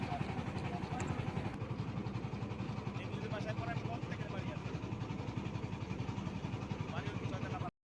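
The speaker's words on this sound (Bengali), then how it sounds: "আমাদের ট্রলারটি নদীর থেকে বাম দিকে মোড় নিল" A trawler engine chugs steadily on the Kirtankhola river near Barishal, a rhythmic mid-pitched throb that runs throughout under people talking, then cuts off abruptly at the very end.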